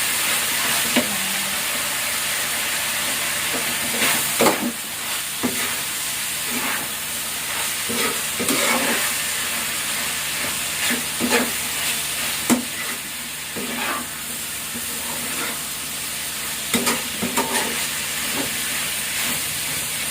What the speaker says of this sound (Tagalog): pwede na uli natin ibalik yung ating talyo para maghalo na ang kanyang